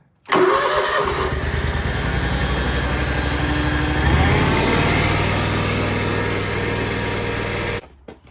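A John Deere 717A riding mower with a 48-inch deck runs steadily at close range, starting up and holding a loud, even engine drone with a slight surge partway through before cutting off near the end, no voices.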